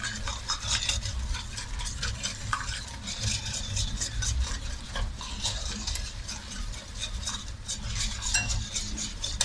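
A spoon stirs a chicken malai mixture with oil in a pot, making a steady scraping and clinking that runs continuously at close range, with no talking.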